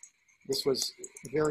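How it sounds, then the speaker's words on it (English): Frogs call around a campfire at night at a camp in Tanzania, a faint steady chorus behind nearby talk. "you can hear the frogs singing in the background"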